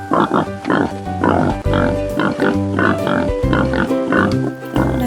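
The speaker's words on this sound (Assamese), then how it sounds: "গাহৰিৰ মাতটো শুনো" A domestic pig grunts loudly and close by in a quick series of rough, snorting bursts, the grunts coming one after another with barely a pause.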